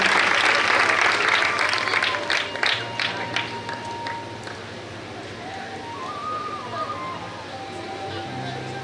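An audience claps at an education award ceremony, the applause loud at first and then tapering into scattered claps and faint room chatter.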